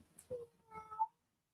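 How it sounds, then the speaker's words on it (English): A cat meows twice nearby, a short high cry followed by a longer, drawn-out wavering call, against an otherwise quiet room with no talking. "Is it just me or can I hear a cat?"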